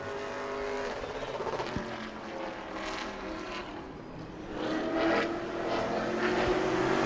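A Pro Late Model race car on a qualifying lap at New Smyrna, its engine a continuous loud roar that rises and swells as it passes, heard alone without talk.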